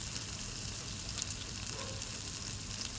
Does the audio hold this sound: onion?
yes